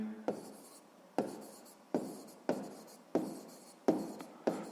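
Pen strokes on paper while a maths solution about boxes of mandarins is written out by hand: seven sharp scratchy onsets about every 0.7 seconds, each trailing off into soft scraping, close and quiet with no talk.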